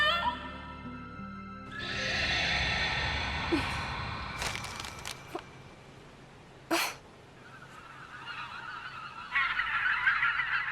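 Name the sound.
birds honking in an animated series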